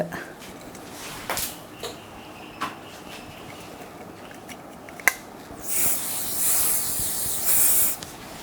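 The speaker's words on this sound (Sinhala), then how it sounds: "හෙයාර් ස්ප්‍රේ එක" Hair spray hisses in a few long bursts near the end, set against quieter handling clicks and taps during bridal hairstyling for a Kandyan bride.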